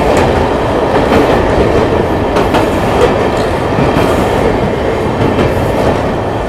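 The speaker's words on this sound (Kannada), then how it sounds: "first commercial train Pamban bridge ಮೇಲೆ" Heard from on board, the first commercial train rolls across the new Pamban sea bridge from Rameshwaram toward Chennai, a loud steady roar with faint rhythmic wheel clatter and no voices.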